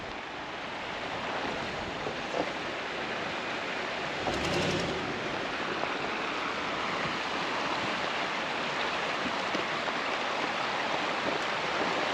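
Flash-flood water rushing through a washed-out ridge on a muddy, icy off-road trail, a loud continuous roar that stays steady and close from start to finish, with no voices over it.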